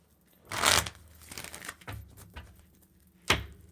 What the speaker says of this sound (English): Let me shuffle, because that Chariot is stuck to my little fingers.